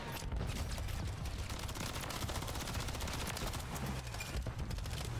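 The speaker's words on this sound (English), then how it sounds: "these guys switched off of shotguns and are now using full-on auto SMGs" Rapid, dense automatic SMG fire in the video game Modern Warfare 3, a continuous crackle of shots with overlapping bursts across the whole span, fairly quiet overall.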